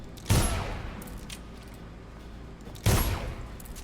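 Two sharp gunshots ring out in Dishonored, spaced about two and a half seconds apart, each a loud close crack with a short decaying tail over a quiet background.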